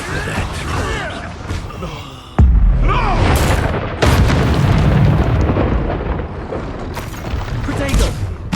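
Repeated Expulso explosion spells blast through a Hogwarts Legacy fight, with a sharp, loud boom around the middle and another right after. Heavy combat noise and voices fill the rest.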